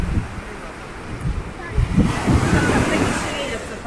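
Sea waves crash and surge on a Black Sea beach at Kabardinka during a storm warning, a loud, continuous roar of surf with wind buffeting the microphone and voices talking over it.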